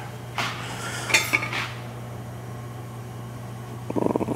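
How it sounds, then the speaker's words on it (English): A Hestan Nanobond titanium pan with a teaspoon of grapeseed oil slid around on a stovetop, giving a few metallic scrapes and clinks near the start, then a steady low hum and a quick rattle of pan against grate at the end. "Gonna get that in the pan, give it a little"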